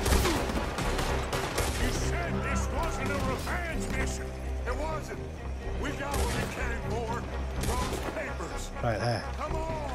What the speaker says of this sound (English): I have to shoot all my bullets off to be able to reload